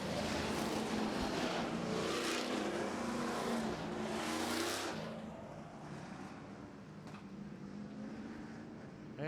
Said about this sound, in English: And the pace truck is out there.